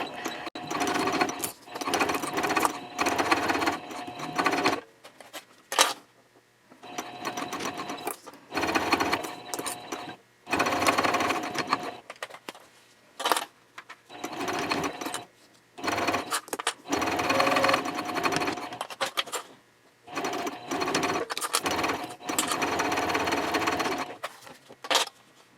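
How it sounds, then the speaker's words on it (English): A sewing machine stitches Cordura fabric on a trifold wallet in repeated runs of several seconds each, close and loud, separated by short pauses. "continue sewing"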